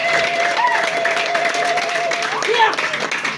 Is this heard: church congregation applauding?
yes